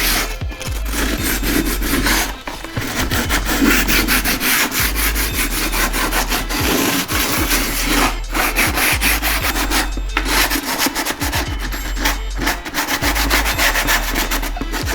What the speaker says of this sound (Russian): мы слегка подшкурим всю плоскость. Для этого мы будем использовать абразив 120 градации.